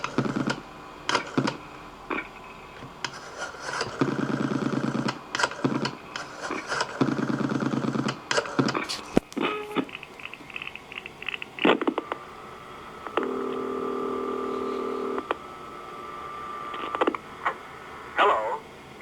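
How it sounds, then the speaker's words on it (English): Dialing a number on a coin payphone connected to a local coin line, with a run of electronic tones and clicks in short bursts, some held longer, heard close and alone. "I can now dial a number"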